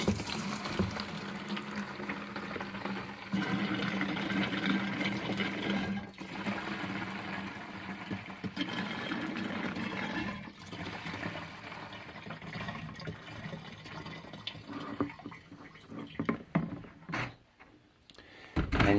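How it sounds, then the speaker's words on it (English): Fuel glugs and gurgles from a gas can with its vent plugged, a steady liquid pour broken by pauses and bubbling surges as air is drawn back in, close and continuous with no talking. "It'd pour some fuel, and then it'd sit there and gurgle till it got air into it, and then it would resume pouring"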